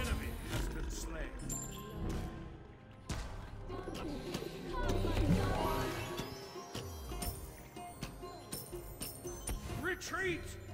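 Dove cooing from Cupid's ability in the battle arena game Smite, soft coos mixed into a busy, loud bed of combat effects, music and announcer voice.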